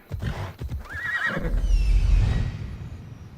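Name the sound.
horse neighing in the video game Assassin's Creed Odyssey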